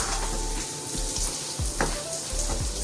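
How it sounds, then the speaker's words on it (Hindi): Onions and white sesame seeds roast in a pan with a continuous crackling sizzle, close and fairly loud, with scattered spatula scrapes and a low rumble underneath; nobody speaks. "और अब मैं इसमें 4 चम्मच सफ़ेद तिल ऐड कर रही हूँ, इसकी भी साथ ऐसे ही भुनाई करेंगे अच्छे से।"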